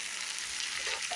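Onions and garlic cooking in a pan, giving a close, steady, even hiss of sizzling through the whole short moment.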